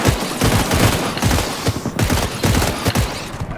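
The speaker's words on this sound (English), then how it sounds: "Let's try our new gun." A new gun in the video game Cyberpunk 2077 fires loud, rapid automatic bursts at close range. The shots rattle in dense, continuous volleys across the whole stretch, with only brief gaps.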